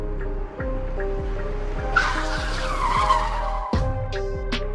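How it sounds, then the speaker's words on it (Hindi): Tires squeal and skid as a car brakes suddenly, a drawn-out screech rising over a rhythmic engine hum and background music, with a sharp thud near the end. "तुमने गाड़ी को अचानक से क्यों रोक दिया है"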